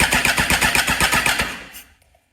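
A Kawasaki ZX-14R motorcycle engine cranks over on its starter for a compression test, a fast, steady, rhythmic churning that runs for about a second and a half, then stops and falls to silence.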